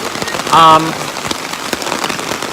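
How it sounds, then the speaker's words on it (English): Heavy rain pours steadily in Kyoto, Japan, with a dense, hissing patter, and a brief voice sounds near the start. "The rain can't be this heavy for this long"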